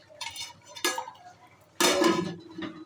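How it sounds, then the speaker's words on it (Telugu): Metal pot lid set down on a pot of chicken curry on a gas stove, a few short clattering clanks with one louder sustained rattle, close by and alone. "ఇప్పుడు మనం మూత వేసుకోవాలి."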